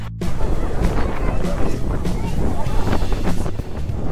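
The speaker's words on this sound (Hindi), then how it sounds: "इस टाइम पे क्या ही खूबसूरत हवा चल रही है" Outdoor wind buffets the microphone in gusty, rumbling bursts during a nighttime Nepali New Year street outing, steady and loud throughout.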